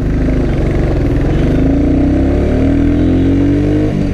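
A Royal Enfield Classic 350 with the J-series engine pulls hard under acceleration on a ride test, its loud, close thump rising steadily in pitch as the revs climb, with no voices.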